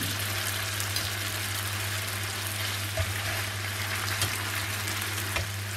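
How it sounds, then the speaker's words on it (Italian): Spaghetti and broccoli fry in a pan, a steady, close sizzle and crackle running throughout with occasional faint stirring clicks and no talking. "spaghetti a soffriggere"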